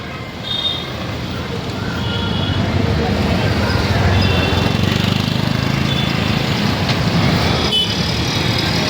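Heavy roadside traffic in a crowded Latur street, with cars and buses passing. It is a steady, loud engine rumble and hiss that builds and then holds, and a person talks in the middle of the noise.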